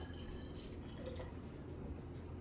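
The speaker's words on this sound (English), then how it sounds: "So we're gonna pour solution A into solution B" Solution A poured into solution B for an iodine clock chemistry demonstration: a soft, steady trickle of liquid into a container, faint and continuous against a low background hum.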